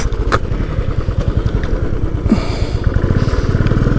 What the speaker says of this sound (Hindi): यहाँ पे भी मिट्टी है जिसकी वजह से बहुत बाइक हो रही है स्लिप